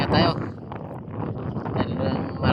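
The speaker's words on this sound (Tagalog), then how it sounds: "Kahit dito malakas pa rin ang hangin." Strong typhoon wind buffets the microphone in a steady, roaring rumble, gusting louder at the start and end, with no clear voices.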